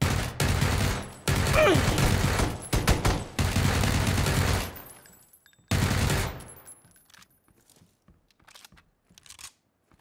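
Heavy automatic gunfire in PUBG, with long loud bursts of rapid shots close by that stop and start several times, then a tail of faint, sparse distant shots.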